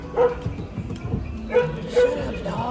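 A dog barks during a boat ride through Epcot's Living with the Land attraction at Walt Disney World, with a few short yips amid people talking and background ride noise.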